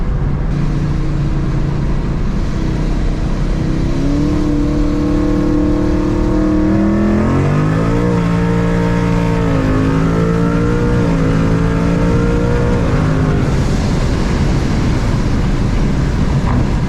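Engine of a 900-horsepower Mustang pulling hard in third gear at night, a loud, rising roar that climbs steadily in pitch, dips briefly at about eight seconds, then keeps building with rough exhaust texture.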